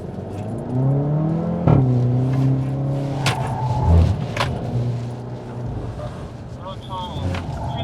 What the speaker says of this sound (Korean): 이제 마지막 최경태 기자님 바로 주행 이어가 보도록 하겠습니다. 준비되시면 바로 출발하겠습니다. 출발